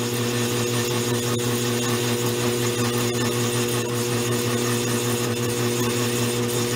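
Goodell Pratt Model 494 lathe running, a steady mechanical hum with a low motor drone and a continuous even whir, close and constant, with no voices.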